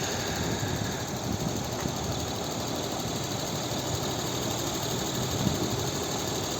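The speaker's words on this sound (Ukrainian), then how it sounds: "Ось робота двигуна." A 2007 VW Touran 1.4 TSI petrol engine idles steadily nearby, a continuous low rumble with an even hum and no changes in pace.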